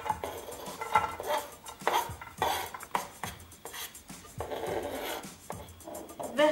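Chopped onion and garlic pieces tipped into a medium frying pan, with a string of close clattering knocks and scraping of utensil against the pan, irregular bursts over several seconds.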